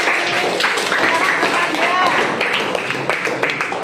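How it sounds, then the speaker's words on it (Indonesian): A school class claps for a student, a steady, moderately loud patter of many hands with people's voices mixed in. "tepuk tangan buat Asmaranti."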